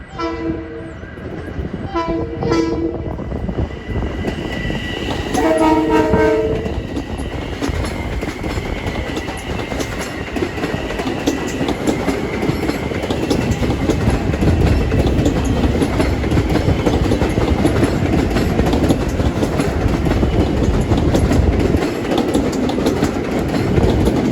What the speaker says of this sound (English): departing at 2:33 is train 1706 to Huntington